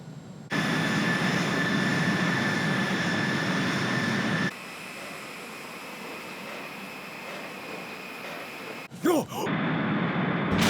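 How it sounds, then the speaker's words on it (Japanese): Enemy aircraft flying past in an anime war scene from Mobile Suit Gundam MS IGLOO, a sustained jet-engine roar with a steady whine that drops partway through, then a sharp swooping whoosh near the end. "クソ、敵機が。"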